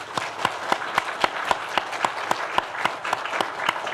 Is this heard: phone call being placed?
no